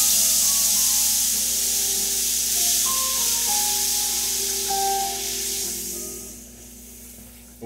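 Beef broth poured into a hot pan for Italian beef, giving a steady, loud hiss and sizzle that slowly fades toward the end, with faint scraping from stirring underneath.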